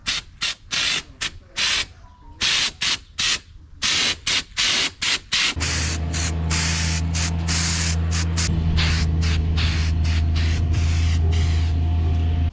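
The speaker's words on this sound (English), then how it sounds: "It does spray out extremely thick" Short hissing bursts of an aerosol spray paint can laying down thick paint, then one long continuous spray with a steady hum underneath, close and loud.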